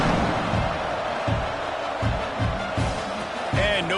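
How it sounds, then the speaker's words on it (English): A football stadium crowd at an ASU game murmurs and buzzes steadily after a rushing touchdown, a broad roar with a few thumps and a faint whistle near the end. "this crowd is buzzing after that last score"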